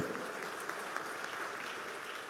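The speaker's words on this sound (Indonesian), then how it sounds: "Yang setuju tepuk tangan yang meriah begitu." Congregation clapping at a church revival service in Surabaya, a fairly quiet, steady spread of many hands clapping together with no talk over it.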